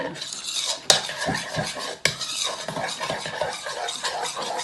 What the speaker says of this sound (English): of the contact solution into our glue mixture and give that a mix around